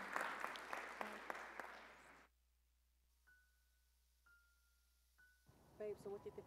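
Applause for Donald Shanks at a World Chamber of Commerce event at Atlanta Airport: a crowd claps loudly for about two seconds, then cuts to near silence with a few soft chimes before voices return.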